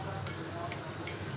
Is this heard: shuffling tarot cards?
no